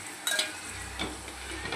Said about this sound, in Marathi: बघा आपला कांदा आता छान असा होण्याची सुरुवात झालेली आहे.